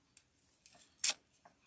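Scissors or wire cutters snipping an artificial floral stem into smaller picks for a Christmas candle holder centerpiece: a few faint, short clicks and one sharper snip near the middle, with no talking.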